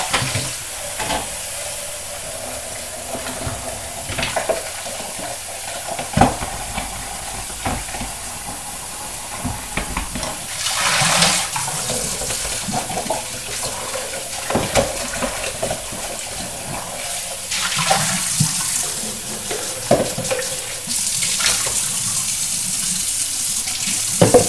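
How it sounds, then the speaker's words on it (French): Running tap water pours steadily as a cheese pot is rinsed under it in a home kitchen sink during sheep's-milk cheesemaking, a continuous close hiss and splash with small shifts in flow and handling clatter, no talking. "Comme ceci, je rince mon pot."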